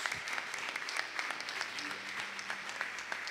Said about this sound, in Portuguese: Você pode celebrar o Jesus com umas palmas.